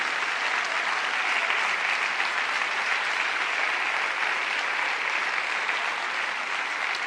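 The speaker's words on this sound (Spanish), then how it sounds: "¿No le dan un aplauso al Señor?" A church congregation applauds steadily, a dense wash of clapping that holds at an even level throughout.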